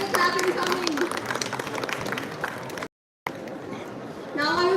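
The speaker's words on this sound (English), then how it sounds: "Let's keep the clapping coming." Audience applause at an author and publisher felicitation ceremony at a book fair, a dense steady clapping that fills the hall, briefly cut off mid-clip and then resuming, with a voice faintly audible through it.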